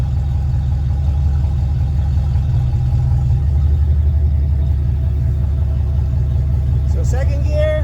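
Engine on a 6R80 automatic transmission build running steadily in second gear under manual mode, a low constant rumble with a brief higher whine near the end.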